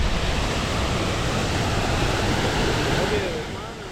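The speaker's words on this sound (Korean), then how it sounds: "아까 봤던 폭포보다 규모가 훨씬 큰 커다란 폭포지대가" A large unnamed waterfall in Switzerland roars as a constant broadband rush of falling water, steady and full before easing slightly at the end.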